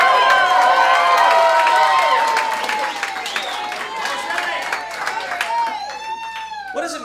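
A comedy club audience applauds and cheers with whoops and shouts. The crowd starts loud and close, then thins and fades toward the end while a few voices still call out.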